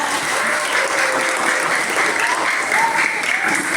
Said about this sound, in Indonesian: Berikan tepukan untuk anak-anak kita.